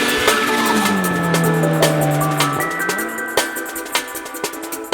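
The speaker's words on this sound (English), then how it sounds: "This is what happens when you take a very expensive exhaust and put it on a very expensive V12 Lamborghini" A straight-piped Lamborghini Aventador SVJ V12 exhaust drones loudly as the revs sag and then rise again, punctuated by sharp repeated crackles and pops.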